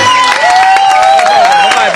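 Audience applause and cheering for three young female singers at the end of a live song performance at an outdoor variety show, a loud, dense wash of clapping with a sustained tonal note running through it.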